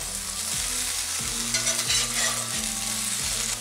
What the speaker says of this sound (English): All right, so now we're gonna turn our taters.